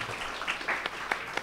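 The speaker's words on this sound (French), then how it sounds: "vous pouvez vous applaudir" Theatre audience applauding after a live show, a dense wash of clapping at moderate level with a few sharper claps standing out near the end.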